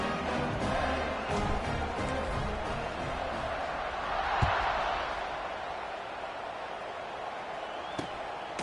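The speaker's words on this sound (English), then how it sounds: "this crowd is buzzing after that last score" A stadium crowd buzzes in the College Football 26 video game after a score, a dense, steady murmur of many voices that swells slightly midway, with occasional thumps on top.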